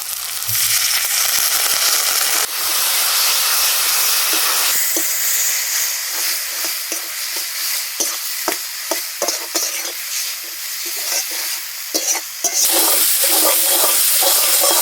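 Water is poured into ground spices with ginger-garlic paste frying for a chicken skin curry, setting off a loud hissing sizzle with bursts of steam and stirring scrapes.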